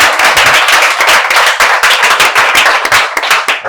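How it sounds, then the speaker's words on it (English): An audience at a public speaking training event gives a round of applause, heard as loud, close, sharp clapping in a fast irregular patter that runs the whole length without talk. "please give a round of applause"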